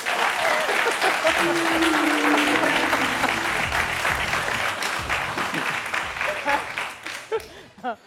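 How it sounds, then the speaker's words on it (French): Studio audience applauding a contestant on a French TV game show, loud sustained clapping that fades toward the end as a voice comes in over it. "Le cousin de Kevin, on applaudit s'il vous plaît."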